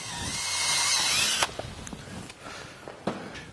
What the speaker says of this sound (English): I will actually just go ahead and drill the center of the plastic out